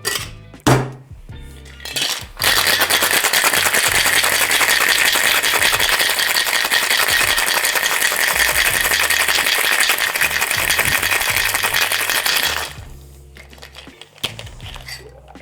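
Ice rattles hard inside a cocktail shaker holding a vodka and overproof rum drink with lime juice, a loud steady shake lasting about ten seconds, then stopping.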